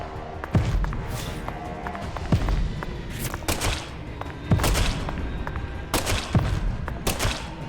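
Sharp video-game gunshots ring out as a handful of separate, fairly loud cracks spaced a second or two apart over a busy background of game sound.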